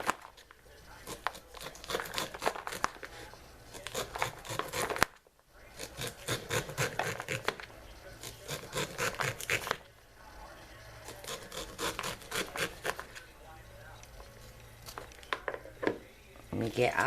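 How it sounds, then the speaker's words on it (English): A serrated knife saws down fresh corn cobs, shearing the kernels into a high-sided bowl in rapid, rhythmic rasping strokes with a few brief pauses. "I have a serrated knife. I'm just going to start cutting down."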